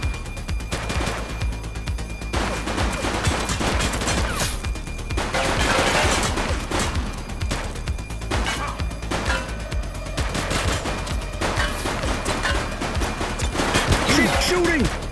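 Dense gunfire erupts in a police shootout in the video game The Precinct, continuous rattling bursts of automatic shots layered with crashes, loud and close throughout, with voices shouting over the din.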